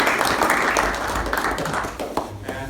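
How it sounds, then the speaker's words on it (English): Applause from a small audience at a fundraising meeting, a dense burst of clapping that carries evenly through the whole stretch and tapers slightly toward the end. "let's have a hand of applause for this"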